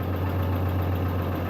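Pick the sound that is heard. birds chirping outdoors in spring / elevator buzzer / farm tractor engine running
farm tractor engine running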